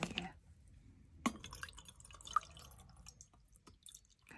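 Water drips into a plastic paint set container in a few faint, close drops and small splashes, with a sharper tap early on and quiet rustling between.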